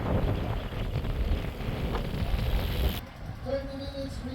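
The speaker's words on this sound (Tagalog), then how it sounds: "Grabe, lakas ng hangin." Strong wind buffets the microphone at a road bike criterium race, a loud rushing roar that cuts off abruptly partway, leaving a quieter background with a faint tonal sound.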